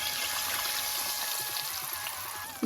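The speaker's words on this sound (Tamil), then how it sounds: "இப்போது கரைச்சி வச்சுருக்கிற இந்த புளித்தண்ணியை இதில் சேர்த்துடலாம்" Tamarind water pours steadily into a cooking pan for pulikachal, giving an even, continuous splashing hiss up close with no talk.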